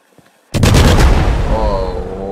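Doom Booms fireworks go off at a gas station with a sudden, very loud blast after a near-silent pause. A rapid crackling burst follows, then a sustained rumbling roar, close to the listener.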